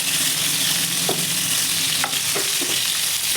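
Marinated fish pieces fry in hot oil with a loud, steady crackling sizzle, close up, broken by a few soft knocks of a utensil moving them in the pan.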